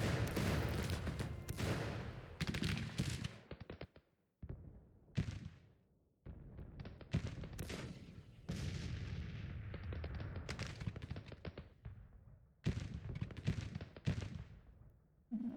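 Artillery booms in a Civil War battle from the Grand Tactician strategy game, a rapid series of heavy cannon blasts and rolling gunfire with brief quiet gaps between volleys.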